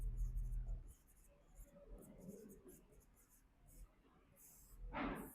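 Chalk or marker scratching on a classroom board during a Class 10 maths lesson, faint scraping strokes in a quiet room, with a brief louder rustle near the end.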